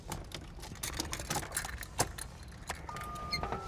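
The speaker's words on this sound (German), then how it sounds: "Hier sind schon mal die Schlüssel." Car keys jangle in a quiet interior of the K.I.T.T. replica car from the US TV series, a light metallic clinking that recurs through the few seconds, close and soft, with a faint electronic tone near the end.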